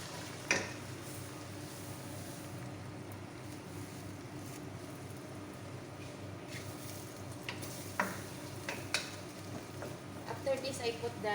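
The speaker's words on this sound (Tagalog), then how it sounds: "So I will continue to frying the onion because I need that one is very brown but it's not burned." Onions frying in a pan until deep brown for an Arabic rice dish, a steady soft sizzle running throughout with occasional utensil scrapes and clicks near the end.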